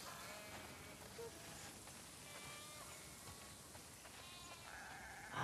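Several sheep bleat in The Last of Us Part II, their overlapping calls faint and scattered over a soft, steady hiss of outdoor ambience, with no talking.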